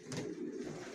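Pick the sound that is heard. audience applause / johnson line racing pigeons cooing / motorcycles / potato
johnson line racing pigeons cooing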